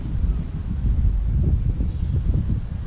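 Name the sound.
wind blowing on allotment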